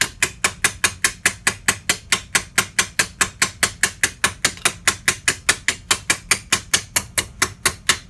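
A body hammer strikes sheet metal against the edge of an anvil to put in a reverse bend: a rapid, steady run of sharp metallic blows, about four per second, loud and close, with no talking.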